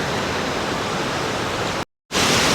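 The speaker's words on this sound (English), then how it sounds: "There's the waterfall," A waterfall on a mountain stream roars as steady, loud broadband rushing water, close by, cut off by a brief silent gap near the end before resuming.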